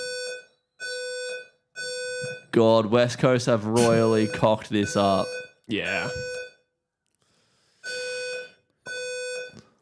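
A loud alarm beeps in regular, evenly spaced bursts; two people talk over it partway through before the beeping continues on its own.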